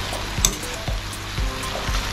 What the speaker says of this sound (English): And stir it for a while